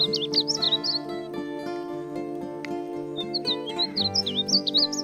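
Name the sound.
song of a North American bird of the cardinal family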